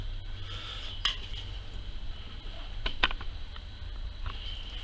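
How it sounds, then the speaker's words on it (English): A knife works through a venison joint for a crown roast, giving faint scattered ticks and a few sharp clicks against a low steady background, close and quiet with no talking. "So just get the point of your knife in,"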